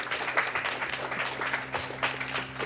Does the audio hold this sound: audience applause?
yes